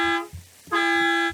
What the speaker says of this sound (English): while the bus honks to signal his arrival